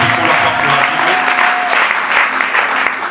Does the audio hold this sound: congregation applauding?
yes